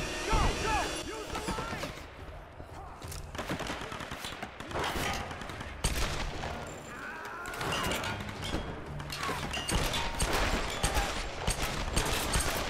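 Gunfire in the video game Tomb Raider: irregular bursts of rapid shots and clattering impacts, loud clusters separated by brief lulls, with faint game sounds underneath.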